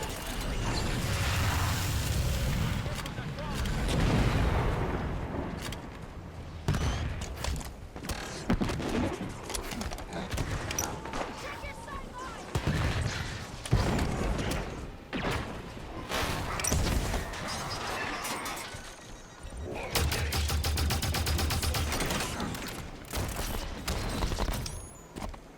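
Gunfire in the Halo 5: Guardians video game, with dense bursts of rapid weapon fire and mechanical clatter repeating in waves over a long stretch, loud and close, interspersed with brief lulls.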